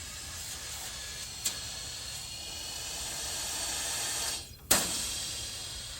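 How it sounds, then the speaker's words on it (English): Nitrogen blown through refrigerant lines during an outdoor TXV replacement makes a steady, faint hiss throughout, with a brief sharper burst near the end. "we're going to just blow a little bit of nitrogen through the system and make sure that there's no debris or anything in those lines"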